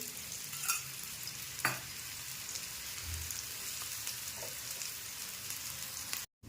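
Bottle gourd thalipeeth roasting on a pan with little oil, giving a steady soft sizzle like light rain throughout, broken by a couple of brief clicks, with no voices.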